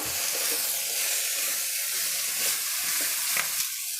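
Coconut, mint and coriander stems fry in a pan, giving a steady bright sizzle with faint stirring scrapes throughout and no voices.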